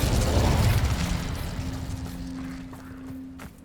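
An Incendio fire spell is cast in Hogwarts Legacy: a loud rumbling burst that fades into a lingering low hum, with a brief crackle near the end.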